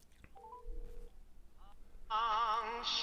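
A telephone being dialed for a call, a short run of dialing tones followed by a loud, steady ringback or tune on the line, with faint background noise.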